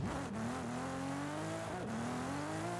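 Toyota Supra, a 1998 model with a drift tune, in the racing game Forza Horizon 5, engine droning steadily with rising and dipping pitch as it slides through street drifts, loud and continuous with no talk.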